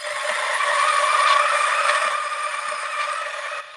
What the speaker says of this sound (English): Now, it gets pretty loud when you start grinding.